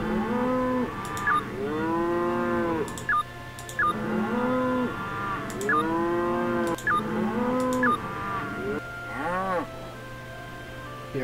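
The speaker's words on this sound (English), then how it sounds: "You're a bunch of cows." Video game cows moo repeatedly in a steady rhythm, several drawn-out calls overlapping one another at close range and fairly loud, with no talk over them.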